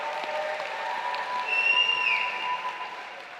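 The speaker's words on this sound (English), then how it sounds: "Let's give all our honor graduates a round of applause." Applause rises for honor graduates at a university commencement ceremony, a steady wash of clapping heard from a distance with a faint tonal whine over it.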